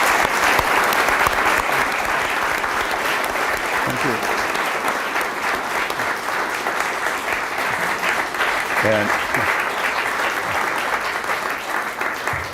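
Sustained audience applause fills an evening talk venue after a Thai activist's lecture, dense steady clapping throughout with a brief spoken thanks and a few words over it.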